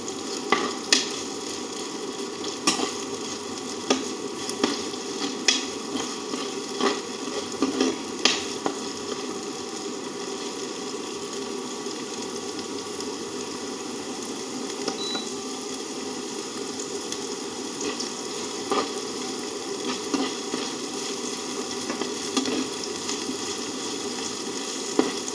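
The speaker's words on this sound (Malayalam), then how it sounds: "ചുവന്നുള്ളിയും വെളുത്തുള്ളിയും ചേർത്ത് കൊടുക്കാം. എന്നിട്ട് നന്നായിട്ട് തന്നെ ഒന്ന് ഇളക്കി കൊടുക്കാം." Crushed shallots and garlic fry in coconut oil for a Kerala-style brinjal stir-fry, a steady close sizzle with frequent scraping clicks of a spoon stirring through the pan, no voices.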